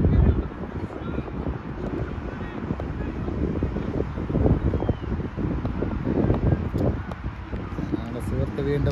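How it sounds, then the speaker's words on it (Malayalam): A light outdoor breeze buffets the microphone in a steady low rumble throughout an evening setting in Sharjah, with a continuous gusty roar and no clear pauses. "ചെറിയ ഒരു കാറ്റുമുണ്ട്."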